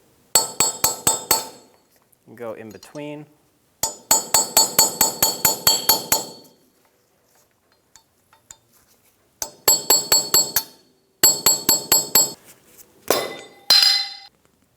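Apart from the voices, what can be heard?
hammer and chisel tapping off hub cap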